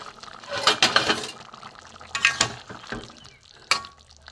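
A metal lid lifted off a pot of boiled jackfruit in a home kitchen, with scattered clinks and scraping clatter of metal against metal in several short bursts, close and moderately loud.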